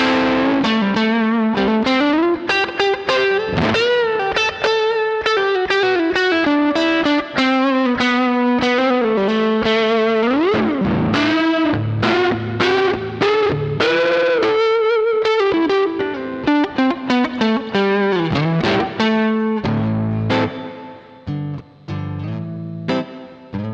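An electric guitar plays through the gain channel of a Laney L5 Studio amp. The tone is loud and distorted, with sustained chords and some single-note runs that last more than twenty seconds.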